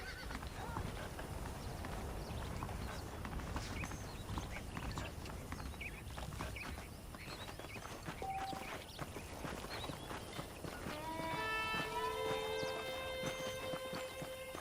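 Saddled horses clip-clop along at a walk in the Red Dead Redemption western game, steady hoofbeats with an occasional whinny, a short tonal cue near the end, and game ambience throughout.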